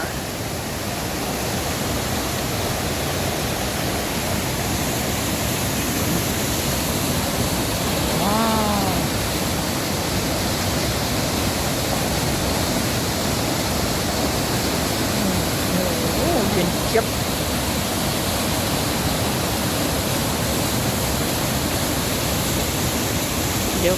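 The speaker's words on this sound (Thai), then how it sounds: "น้ำตกหัวช้างครับ" Hua Chang waterfall pouring steadily into a cold, clear stream, a constant broadband roar of rushing water that fills the whole clip with no clear break, with faint brief voices under it.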